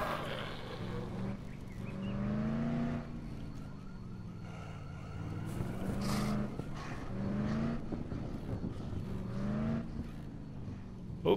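Game car in Dead Island driving with a steady engine drone and wavering pitch that rises and falls through gear changes, alongside a siren-like whine and scattered thumps and impacts.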